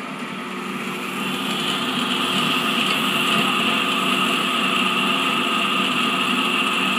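An electric motor runs on a Mawdsley's AC-DC converter test bench, giving a steady, loud, continuous hum and whine with layered tones that holds unchanged throughout, with no talking.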